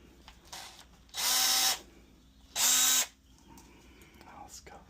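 A power drill drives a screw into a wall stud while mounting a Victron Quattro II inverter, two short loud whining bursts close by with soft low talk between them.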